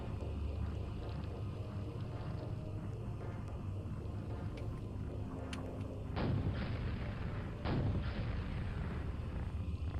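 Quad-damage rocket explosions in Quake, a dense run of heavy booms layered over steady in-game ambience and music, with two especially sharp, loud blasts near the end.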